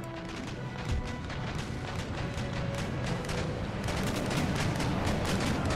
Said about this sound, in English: Firing round shots, it can still feasibly hit.